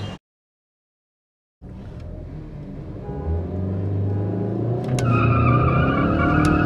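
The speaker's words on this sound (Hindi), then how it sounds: "अब वो फोर्ड एस्पायर चली गई, होंडा सिटी आई।" Ford Aspire and Honda City cars in a drag race: after a short silence, a loud, steady engine roar builds and holds, with rising revving and a brief higher whine near the end, no talk.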